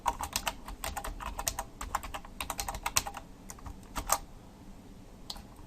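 Fast, uneven keystrokes on a computer keyboard clatter steadily at close range, with a few louder key presses and brief pauses, and no voices.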